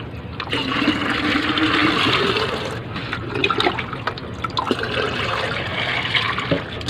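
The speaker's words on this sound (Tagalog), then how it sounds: "Magdidilig ng ating pananim." Water is poured to water garden plants in a small home plot in Saudi Arabia, a close, steady splashing and gurgling stream with uneven bursts and trickles as the flow shifts. No talking.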